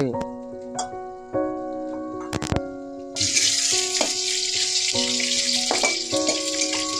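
Chopped onions hit a hot pan for an Odia cabbage-potato fry, bursting into a bright, steady sizzle after a few clinking utensil knocks, with someone speaking over the cooking.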